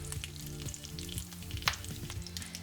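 Bacon fries until crisp in a pan, giving a soft continuous sizzle scattered with small crackles and pops, fairly quiet and with no talking.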